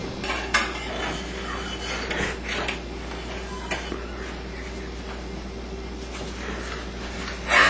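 Dishes, pots and pans clink and scrape steadily over a low hum at a kitchen sink, with occasional louder knocks of crockery and no talking.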